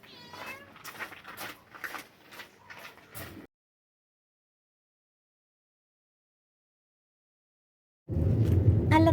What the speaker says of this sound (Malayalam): ഇതാണ് എൻ്റെ പൂച്ച